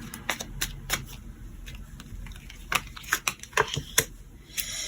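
Tarot cards being shuffled and drawn, a quick series of soft papery flicks and taps in irregular bursts, close and fairly quiet, with no talking.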